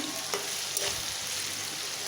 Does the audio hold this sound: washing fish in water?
no